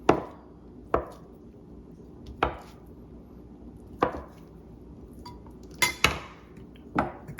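A knife chops repeatedly through Trader Joe's mozzarella cheese on a cutting board, giving about seven sharp, close knocks at uneven intervals, two coming in quick succession near the end, with no talking.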